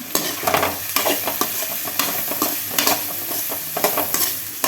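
Large onions frying in a pan for a chicken dish, with loud steady sizzling and repeated scraping strokes of a spoon stirring them throughout, no voices.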